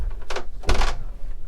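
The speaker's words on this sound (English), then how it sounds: "And if I shut the door" A cabin door on a Sealine S390 motor boat is pushed shut, a soft slide followed by a close, solid thunk as it closes, with no talk.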